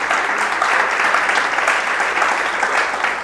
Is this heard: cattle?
no